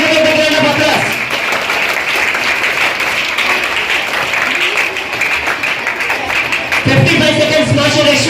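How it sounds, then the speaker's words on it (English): An audience at a school Rubik's Cube contest during National Mathematics Day celebrations breaks into loud, sustained clapping, framed by an announcer's amplified voice at the start and end. "Please give a big round of applause."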